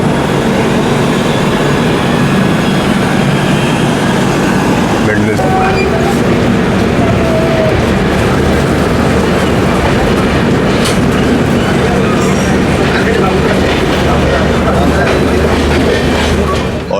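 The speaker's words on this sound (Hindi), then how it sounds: "लखनऊ तक अपनी ट्रेन जो है 110 kmph पे आई है" The 12875 Neelanchal Express runs on rails at around 110 km/h near Lucknow, with a loud continuous rumble and rattle, rhythmic wheel clatter and occasional squeals, recorded close from aboard, with a voice talking over it.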